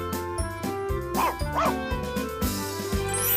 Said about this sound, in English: One puppy.